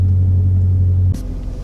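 A Dodge Scat Pack idles before an acceleration run, a deep steady engine rumble with a strong low hum that drops off abruptly near the end, followed by a brief click.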